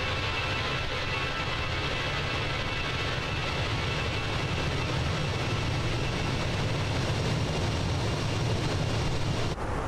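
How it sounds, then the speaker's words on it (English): Fenix A320 jet engines in Microsoft Flight Simulator, an Air Canada airliner, give a steady, dense low roar with a broad hiss on top, continuous and unchanging throughout, with no talk. "They've done a great job with the sounds."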